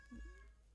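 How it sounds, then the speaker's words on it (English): A house cat lets out a single short meow indoors, brief and faint, with no other sounds around it. "That is my cat."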